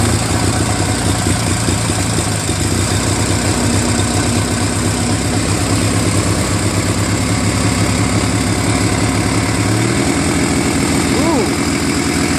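A Murray Ultra garden tractor's opposed-twin engine, just fitted with new spark plugs after running rough, idles loudly and steadily close by; its pitch shifts slightly near the end while a voice talks over it.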